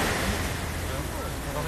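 Ocean surf rolling in at a seaside beach, a steady broadband wash of breaking waves with wind buffeting the microphone, loud and continuous throughout.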